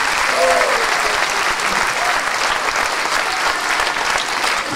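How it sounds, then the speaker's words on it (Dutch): Audience applause for conductor Ralf Bremans at a joint concert of music societies in Meijel; loud, dense clapping from a crowd that holds steady for the full stretch. "Geef hem een applaus."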